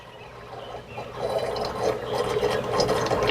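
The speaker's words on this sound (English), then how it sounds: "Hear that gargling?" Water gargles and bubbles as a siphon starts after a valve is closed, a continuous close rushing, churning sound that grows steadily louder.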